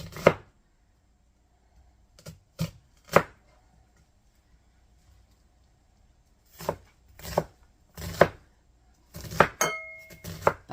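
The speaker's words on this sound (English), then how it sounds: "And then I'm going to dice me up an onion" A large onion diced with a knife, giving sharp, close chopping strokes in irregular bursts, single cuts and short quick runs separated by quiet pauses, with no talking.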